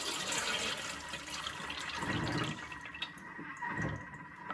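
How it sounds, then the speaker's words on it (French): Excess water is poured off from a Thermomix bowl while cooking chicken and vegetable couscous, held back by the Varoma tray, making a steady, fairly quiet splashing trickle with a few louder gushes. "je vais enlever l'excédent d'eau sans attendre"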